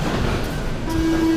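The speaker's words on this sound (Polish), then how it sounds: "Idziemy metrem w Mexico City." Mexico City metro train heard from inside, a loud rumbling ride with rattling and a steady tonal whine emerging partway through, no talk.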